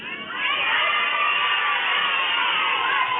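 A festival crowd of children and adults at Lady Bird Lake yell their names all at once, a loud, continuous jumble of overlapping shouting voices that swells quickly and holds for several seconds.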